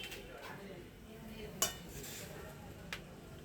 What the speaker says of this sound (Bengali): আমার হাজব্যান্ড একটু নেড়ে দিচ্ছে